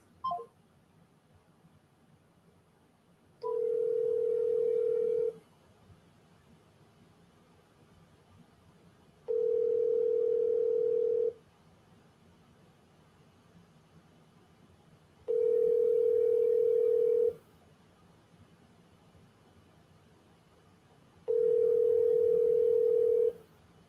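Telephone ringback tone from an outgoing call that goes unanswered, four steady two-second tones evenly spaced about four seconds apart against a quiet background.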